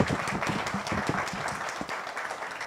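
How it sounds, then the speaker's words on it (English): An audience applauds at a 25th anniversary celebration for Bega Kwa Bega in Uganda, with dense, steady clapping throughout at moderate volume and a faint voice mixed in. "Let's applaud Bega Kwa Bega for the wonderful work they do."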